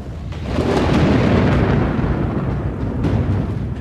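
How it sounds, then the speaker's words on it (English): Deep, loud rolling thunder from a storm building over the African savanna, swelling after a brief start and rumbling on continuously without any voices. "a storm begins to brew"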